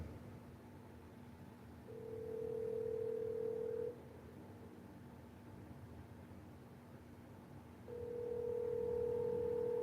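A phone call being placed again produces two long, steady ringback tones separated by a few seconds of quiet line hiss, heard faintly over a phone line.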